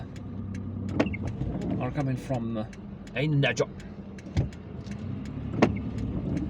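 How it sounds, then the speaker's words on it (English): Oncoming cars passing on a busy road in Algiers, heard from inside a moving vehicle as several short whooshing pass-bys and engine hums, with someone talking over them. "There is a lot of oncoming traffic here"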